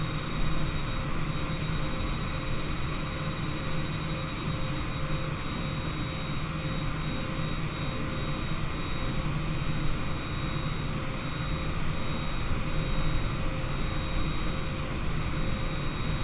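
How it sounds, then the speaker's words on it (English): Twin jet engines of a Boeing 787-9 idling steadily after start at Haneda in Microsoft Flight Simulator, a constant loud broadband roar with a low rumble and faint whine, unchanging and unbroken throughout. "Cockpit to ground. We have a good engine start."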